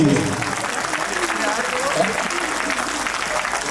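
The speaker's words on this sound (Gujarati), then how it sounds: "આપણે પહેલી તાળીઓ પાડવાની છે." An audience at a temple consecration festival in Sultanpura claps in a dense, sustained burst, loud and continuous, with some voices mixed in.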